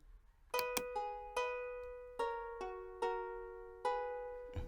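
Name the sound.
guitar sample played in FL Studio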